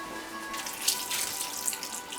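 Water pours steadily into a cooking pot for risotto, a continuous splashing rush with small bubbling gurgles, close and fairly loud with no voices.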